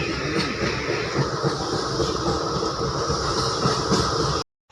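A passenger train rolls steadily along the rails in Bangladesh on a hill-country trip, a loud, continuous rumble with faint clickety-clack from the wheels, heard from inside a carriage, cutting off abruptly near the end.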